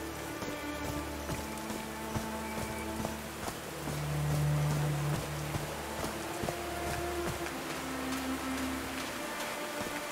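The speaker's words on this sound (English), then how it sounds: "These drops of rain are so refreshing." Rain falls in the video game Call of the Sea, soft patter and drips spread across the scene, with steady low tonal ambience and occasional sharper drop sounds, fairly quiet and continuous.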